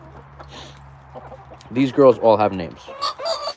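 A farm flock of hens and roosters clucking close by in a rising, stuttering run of calls, with a person talking over them.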